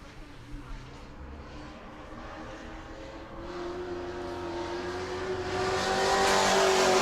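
Race truck engine at New Smyrna during a qualifying lap, a steady loud drone that swells and rises in pitch as it nears and accelerates, with some faint talk in the background.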